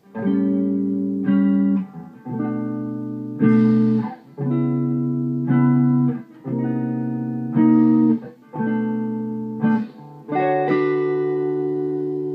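A clear electric guitar blues phrase of about ten strummed chords in a steady rhythm, each ringing briefly with slight distortion, played alone.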